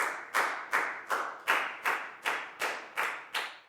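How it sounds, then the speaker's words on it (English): Students in a classroom clap in a steady, evenly spaced rhythm, about nine sharp synchronized claps over a few seconds, fairly quiet and with no talking. "a big round of applause for everybody for doing a great job"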